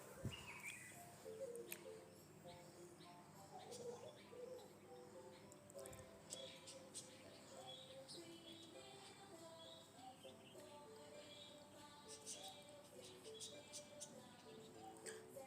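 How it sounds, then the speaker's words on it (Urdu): Sparrows chirp and tweet repeatedly in the background, faint and distant, with steady outdoor ambience throughout. "پتہ نہیں آپ لوگوں کو چڑیوں کی آوازیں آ رہی ہیں یا نہیں"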